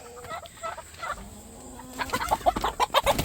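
A rooster being chased clucks and squawks, starting sparse and quiet, then bursting into a loud, rapid run of agitated calls near the end.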